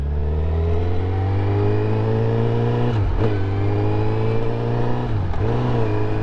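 A 2023 Honda CBR 1000RR sport bike engine running steadily with a strong, even drone, dipping briefly twice as the throttle is blipped and eased, close and loud with no talking.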